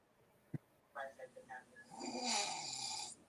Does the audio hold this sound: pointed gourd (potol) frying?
no